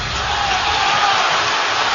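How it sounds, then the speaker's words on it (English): A basketball arena crowd in a 2006 NBA playoff game between Dallas and San Antonio roars in protest, demanding a foul. The roar is loud and sustained and swells slightly toward the end. "Crowd wanted a foul on Parker"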